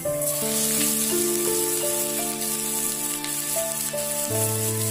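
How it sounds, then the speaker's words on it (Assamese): Chopped onions frying in a pan for a home-style Assamese dahi chicken, giving a steady, close sizzle that runs continuously under loud background music with sustained tones. "পিঁয়াজখিনিৰ পৰা কেঁচা ভাৱটো নোযোৱালৈকে এইখিনি আমি ভালদৰে ফ্ৰাই কৰিম"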